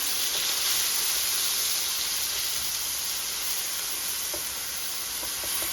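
Garlic sizzles steadily in a hot pan with onions as it is stirred, a continuous, even hiss of frying that stays close and fairly loud throughout, with no pauses.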